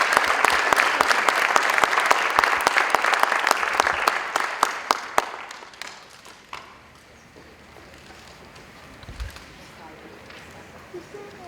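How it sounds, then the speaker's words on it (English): Loud applause from a crowd at a school district sports hall of fame induction, steady clapping that fades out after about five seconds into quiet room noise. "a big round of applause to Hall of Fame inductee, Mr. Michael Greer."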